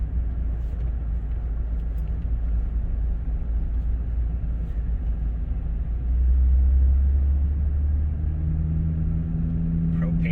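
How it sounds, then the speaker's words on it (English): A fuel delivery truck, out serving home furnaces through the winter in Prince Edward County, Ontario, rumbles steadily past with a low engine drone that swells in the middle. A voice talks over it. "Truck out delivering fuel to keep all those furnaces running through the winter."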